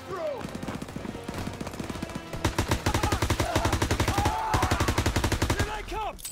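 Rapid, sustained gunfire fills a World War II battle in Call of Duty: WWII, with dense bursts of automatic weapon fire rattling loudly and steadily, broken by occasional heavier shots.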